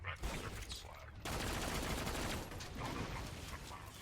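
In the Borderlands 2 video game, a Bolter gun fires a dense, sustained burst of rapid shots that sounds loud and continuous, with a brief quieter stretch at the start.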